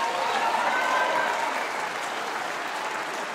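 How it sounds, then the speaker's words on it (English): Audience applause at a high school jazz night concert, honoring a student drummer after a drum set feature, a steady wash of many hands clapping that fades slightly toward the end, with no talking over it. "another round of applause for Vincent Neller on drums"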